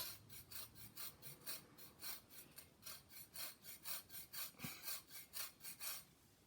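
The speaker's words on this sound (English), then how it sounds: "so now we're gonna zest 2 tablespoons of lime" A fresh lime is zested with a handheld zester, making rhythmic scraping rasps in quick regular strokes, about two per second, close and fairly quiet, with no talking.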